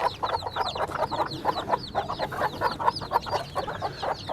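Hens cluck in quick, repeated bursts close by, with a scattered, restless rhythm that runs through the whole stretch and has no voices over it.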